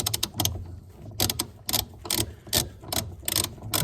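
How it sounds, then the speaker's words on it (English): A torque wrench being wound up and set while working on a Honda Civic suspension, giving bursts of rapid ratcheting clicks separated by short pauses, close and loud with no talking. "I've already preset a couple of torque wrenches here"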